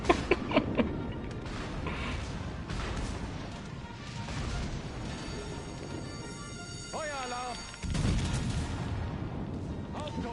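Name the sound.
naval gunfire from battleship secondaries in a video game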